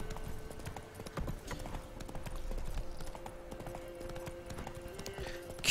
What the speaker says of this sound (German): Also gab ich dem Pferd die Sporen.